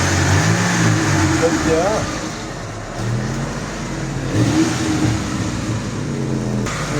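A Chevrolet Nexia with a homemade resonator rumbles steadily with a low, throaty drone that swells slightly at times, while people talk over it.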